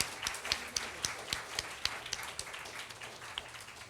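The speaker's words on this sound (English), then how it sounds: "another round of applause to Mr. Sunshine" An audience applauds a rakugo performer in a small hall, producing a brief, sparse patter of claps with a few sharper individual hand slaps standing out, fading after a few seconds.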